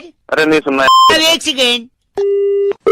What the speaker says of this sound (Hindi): नेटवर्क में कुछ चल रहा है, कॉल ड्रॉप हो रहा है।